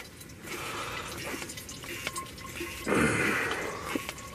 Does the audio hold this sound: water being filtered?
yes